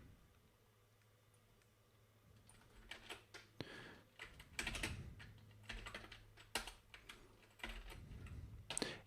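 Someone types on a computer keyboard while writing a shell script, with irregular clusters of close key clicks and occasional heavier thumps, quiet at first and then busier, no talking.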